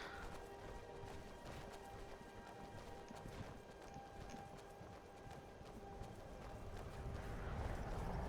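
Shadowmere, a horse in the video game Skyrim VR, clip-clops along with steady rhythmic hoof beats that hold for several seconds and swell a little louder toward the end, set against continuous ambient game noise.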